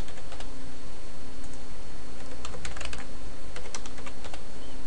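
A computer keyboard clatters steadily as a new password is typed, dense quick keystrokes running continuously under a constant background hum.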